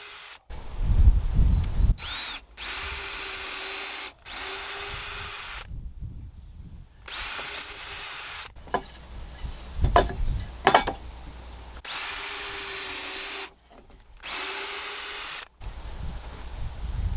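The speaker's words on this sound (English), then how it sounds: "So that's where I'm gonna drill my hole. I'm gonna do a smaller bit first." A power drill whirs in about half a dozen short bursts, biting into material with gritty grinding, separated by brief pauses.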